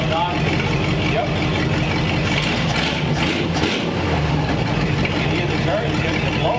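A 1929 Ford Roadster Pickup engine runs with exhaust quieted by baffles built from scrap, giving a steady, loud raspy drone while people talk over it.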